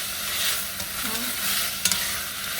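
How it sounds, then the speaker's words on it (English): Peppers and onions sear in a pan for curry goat, a quiet steady sizzle with faint scraping and a couple of light utensil clicks against the pan. "I'm going to go ahead in here and sear these peppers and onions"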